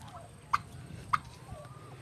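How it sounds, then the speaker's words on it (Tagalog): Chickens and turkeys on a farm, with two short, faint fowl calls separated by about half a second over quiet background noise. "May mga manok. Pabo."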